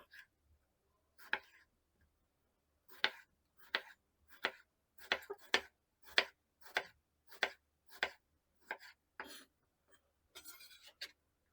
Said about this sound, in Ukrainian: Помідор нарізати напівкілечками.